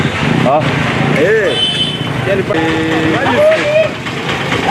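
A motorcycle engine runs steadily nearby as a low, continuous rumble under loud, close conversation that dominates throughout.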